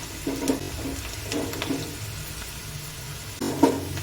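Onion and green chili fry in hot oil, giving a steady low sizzle broken by a few scraping stirs of a spoon in the pan; nobody speaks.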